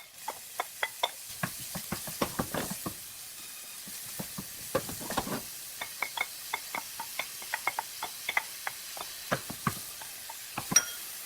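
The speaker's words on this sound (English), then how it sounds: "First, we're going to saute the onions and the garlic." Onions and garlic sauté in a pan, with a soft sizzle beneath a steady run of sharp clicks and taps from stirring utensils against the pan, close and fairly quiet, with no talking.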